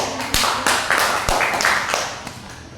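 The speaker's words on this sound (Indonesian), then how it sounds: "beri aplaus untuk anak-anak yang sudah naik menerjemahkan potongan ayat" A small group of children in a classroom claps, a short scattered round of hand claps of moderate loudness, with faint voices underneath.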